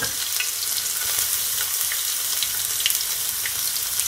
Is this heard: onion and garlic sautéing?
yes